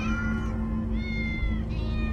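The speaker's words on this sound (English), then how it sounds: "So many cats." Several cats in the video game Minecraft Story Mode meow in quick overlapping succession, close and clear over a steady low hum, with no voices.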